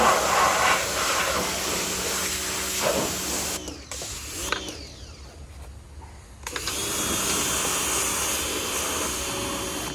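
An Aspiron 4000 PSI, 2.6 GPM electric pressure washer blasts an old red vehicle with a steady, loud hissing spray. The sound thins and drops out briefly midway, then returns at full strength.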